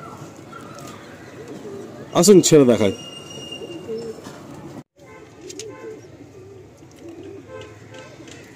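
Quality pigeons in a loft give a short burst of loud, close cooing amid a low murmur of other birds, while someone talks over them throughout.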